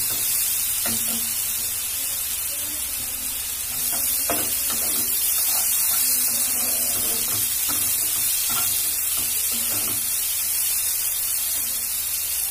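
Masala for soya egg rolls fries in a pan over a medium flame, hissing with a steady, close sizzle broken by light stirring scrapes.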